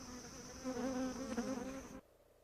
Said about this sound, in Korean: 때마침 꿀벌이 날아옵니다.